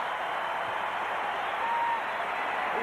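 Basketball crowd at the 1992 Tournament of the Americas game between the Dream Team and Cuba applauding, a steady distant wash of clapping and cheering for the whole moment.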